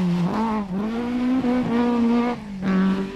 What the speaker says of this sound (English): the SDG trailer's car is beginning to sound rough